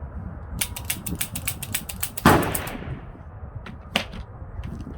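A Colt Python revolver firing .357 Magnum loads at an outdoor range lets out a sharp, loud report with a ringing decay. A fainter second shot follows, along with rapid clicking noises earlier.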